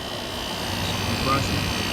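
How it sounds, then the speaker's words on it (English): A Toshiba compressor in a 1988 Carrier International Series air conditioner runs at a steady close range, a continuous even hum with a broad, airy whoosh and no breaks. "Got a Toshiba compressor."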